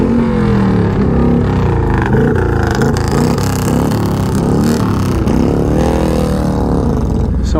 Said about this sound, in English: Somebody likes these fishtail pipes and the noise they make.